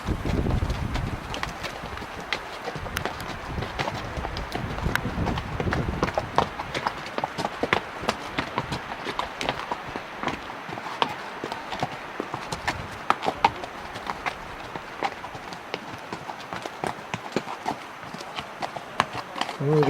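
Horse hooves clip-clop steadily along a trail through conifer forest near the Continental Divide, a continuous close rhythm of hoofbeats with light wind rumble throughout.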